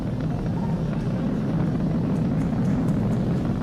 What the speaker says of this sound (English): We're throttling down to get ready for the period of maximum dynamic pressure.